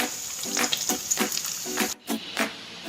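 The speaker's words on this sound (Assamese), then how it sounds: "এয়া পনীৰখিনি মই ভাজি আছোঁ" Paneer sizzles steadily in a hot pan while a spatula scrapes and stirs in quick, repeated strokes, with one brief pause.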